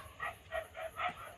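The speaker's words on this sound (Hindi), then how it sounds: "कुत्ते भौंक रहे हैं भाई" Dogs bark in the distance, four faint evenly spaced barks against a quiet background.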